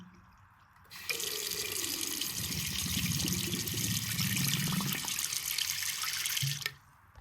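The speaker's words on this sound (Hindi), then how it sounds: "अभी पानी जा रहा है, पाइप में दिखाई दे रहा है पानी" Water gushes steadily down a household drain pipe that has just been unblocked, a loud, continuous rushing flow with gurgling that starts abruptly, holds for several seconds, then cuts off.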